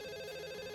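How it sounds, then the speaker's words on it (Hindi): A telephone rings in a Hindi action cartoon: a steady, bright electronic trill that fills the brief moment on its own. "मुझे ये फोन उठाना पड़ेगा"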